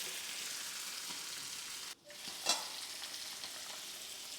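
Sardines and thin dosa fry in pans on two stoves, a steady close sizzle with a brief dip and one sharp crackling spatter partway through.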